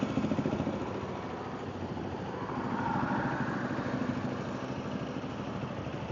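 A motorcycle ridden through rain with the rider in a raincoat, a steady broadband engine drone and rushing wind and rain noise holding up close and fairly even throughout, with no voices.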